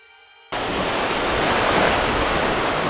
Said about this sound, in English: Today is a really windy day